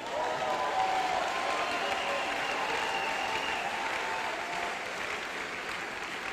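A church congregation applauding, sustained dense clapping from many hands that holds steady for several seconds, loud and filling the room.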